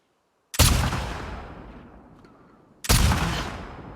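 Two loud, close gunshots from The Last of Us Part 2, each a sharp crack followed by a long, slowly fading echo, roughly two seconds apart.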